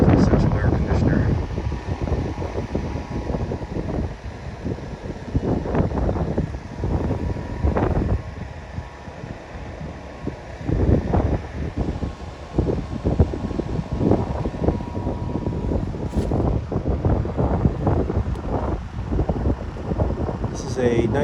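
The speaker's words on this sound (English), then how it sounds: "Here's this old Heil 5000 central air conditioner." An old 1994 Heil 5000 five-ton central air conditioner with a scroll compressor runs outdoors, a steady whirring fan hum with wind buffeting the microphone and irregular bursts of noise throughout.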